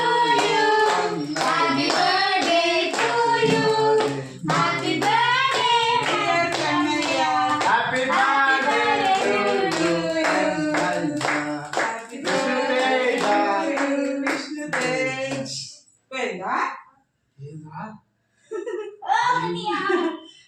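A child clapping hands at a birthday celebration, quick claps mixed into loud singing and chatter from several people, ending in scattered claps and voices.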